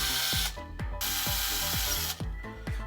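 A Milwaukee power drill runs in loud, steady bursts with a brief stop and restart, working on parts for a Tekno 1/8 scale RC buggy, no talking.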